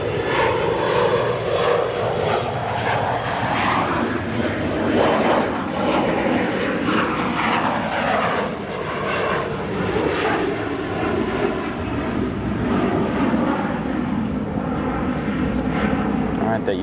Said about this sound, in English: That United 777 now rolling down 28 right with the ETA in view.